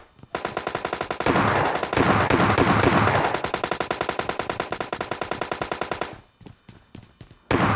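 Rapid automatic gunfire in the video game PUBG Lite, long rattling bursts of closely spaced shots with a denser chaotic stretch in the middle, a pause, then a final loud shot.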